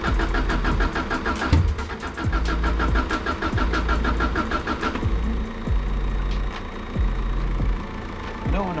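A Subaru Impreza with a heavy misfire cranks repeatedly in a fast rhythmic churn, catching briefly and stumbling without settling into a steady idle, loud and close.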